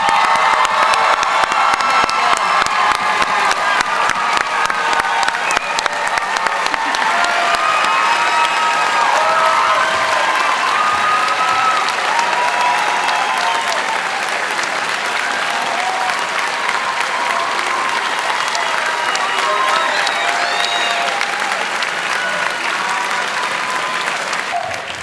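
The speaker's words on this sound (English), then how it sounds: "let's give them a big round of applause" Sustained applause and cheering from a large crowd of students and families at a senior recognition ceremony, loud and continuous with scattered shouts and whoops throughout.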